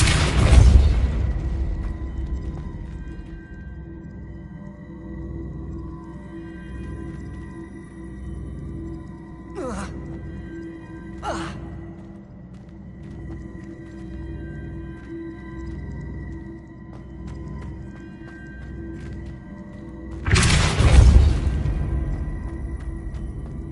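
Two heavy magical blasts of the Depulso spell in Hogwarts Legacy, one right at the start and one near the end, with brief whooshing sweeps between them over a low ambient game bed.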